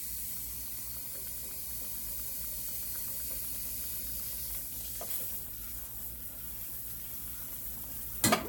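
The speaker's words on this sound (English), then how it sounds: "I'm going to go ahead and start some more water boiling" Steady hiss and faint bubbling from a pot of water heating on the stove for spaghetti noodles, continuous and close, ending with a brief clatter.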